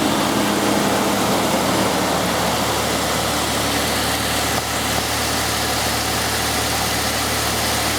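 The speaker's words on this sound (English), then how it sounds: "start the engine. We'll raise my idle." A Chrysler, Dodge or Jeep car engine idles steadily at a constant loud level, with a low droning hum and a slight change in tone midway, no voices.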